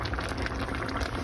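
A pot of mussels and rice boiling on the stove gives a steady, dense bubbling and roiling hiss, close and continuous, with no voices over it.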